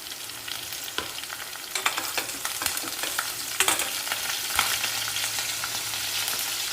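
Onions and curry leaves fry in a pan for a brinjal (eggplant) fry. Continuous close sizzling is overlaid with repeated sharp scrapes and taps as a spoon stirs the pan.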